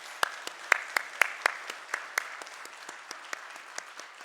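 A church congregation applauds retirees: light, scattered clapping that thins out toward the end, fairly soft and heard in a reverberant hall.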